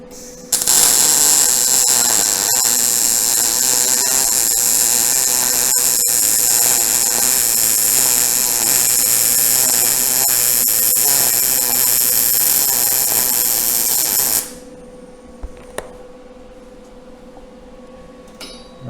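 MIG welding with a Vulcan OmniPro 220 multiprocess welder: a loud, steady, bright crackling hiss runs unbroken for about fourteen seconds, then cuts off abruptly, leaving faint ticks and quiet room tone.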